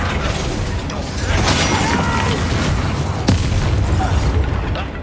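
Spell explosions in the game Hogwarts Legacy form a dense, continuous roar of booms and crackling blasts lasting several seconds, loud and close with no clear pauses.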